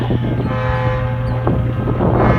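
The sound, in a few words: Amtrak 80 train approaching, northbound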